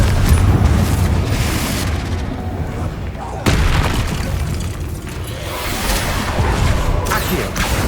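Confringo spell explosions in Hogwarts Legacy, a series of deep booming blasts with rumbling tails, one sharp loud burst midway, dense and close amid game effects.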